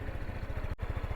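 A Euro Motor Samurai 155i V2 motorcycle exhaust idles close by with a steady, rapid low thumping pulse, broken by a brief dropout near the end.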